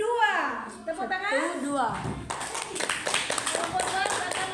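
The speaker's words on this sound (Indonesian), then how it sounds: "Tepuk tangan" Students in a social studies class applaud a group in a short burst of clapping, following a teacher's spoken cue and mixed with classroom voices.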